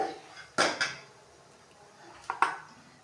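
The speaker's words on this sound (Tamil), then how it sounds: "ஒரு பரட்டு பரட்டி இதை இறக்கி வச்சுட்டு" A pot being stirred and lifted off the stove, two clusters of sharp metallic clinks and knocks about two seconds apart, close and otherwise quiet.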